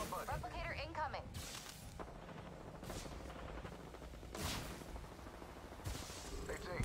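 Gunfire in the Apex Legends video game, bursts of shots and loud rapid blasts heard over steady game sound, while players talk over it.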